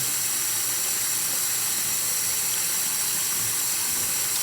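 Water runs steadily from a tap during a face wash, a continuous close hissing rush with no pauses and no talking.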